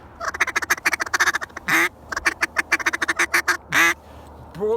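Rapid series of quacking duck calls in quick rhythmic bursts, with two longer drawn-out quacks, loud and close, mimicking a mallard hen.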